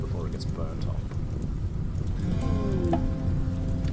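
Rain and rolling thunder in the RimWorld video game, a continuous hiss of rainfall with a low rumble throughout, a steady outdoor storm bed joined by faint background game tones.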